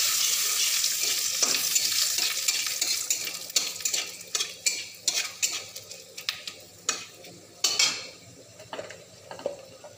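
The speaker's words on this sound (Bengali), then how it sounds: "আর এই যে এলাচ দিলাম। নেড়ে নেব বন্ধুরা।" Cinnamon and cardamom frying in oil in a pan, a loud initial sizzle fading as a spoon stirs, then a rhythmic series of sharp metallic scrapes and clinks against the pan.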